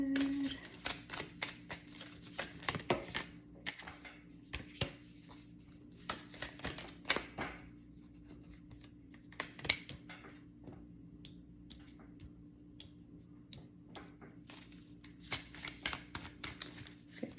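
Tarot cards being shuffled, a close, continuous run of quick papery riffles and light flicks over a faint low background hum.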